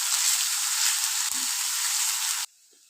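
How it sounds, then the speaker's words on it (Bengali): Turmeric powder frying with ginger-garlic paste in hot oil gives a loud, dense, continuous sizzle with one brief knock. The sound cuts off abruptly near the end, leaving near silence. "হলুদ গুঁড়োটা ভালো করে কষিয়ে নিচ্ছি আদা রসুন পেস্টের সাথে।"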